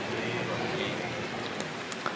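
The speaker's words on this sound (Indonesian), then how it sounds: "Ya Allah, jadikan hujan yang bermanfaat buat kita." Steady rain falling, a dense even hiss of drops on a surface continuing throughout with a couple of sharper drips near the end.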